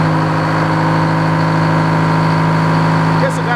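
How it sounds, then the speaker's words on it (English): An old Frick sawmill engine runs at a steady idle, a loud, close, even drone with a constant low hum that holds unchanged throughout. "Engine's already been warmed up"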